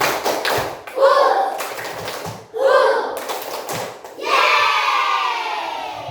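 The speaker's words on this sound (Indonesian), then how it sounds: "Tepuk semangat" A school class performs a rhythmic spirit clap, quick patterned taps with voices chanting along in two bursts, then a sustained round of clapping and cheering to finish.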